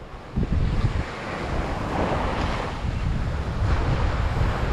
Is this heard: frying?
no